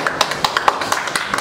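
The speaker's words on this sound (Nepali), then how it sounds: "एकचोटि जोरदार ताली बजाइदिनु होला" An audience at a dance choreographers' association general assembly in Kathmandu claps sparsely, with scattered individual hand claps landing in an uneven, light rhythm, close and moderately loud.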